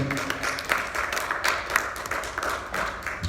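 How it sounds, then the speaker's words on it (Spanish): A church congregation applauds, many hands clapping in a dense, fairly steady patter at moderate distance, continuing throughout. "Dale un aplauso al Señor Jesucristo"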